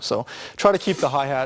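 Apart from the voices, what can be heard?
No everyday noises stand out.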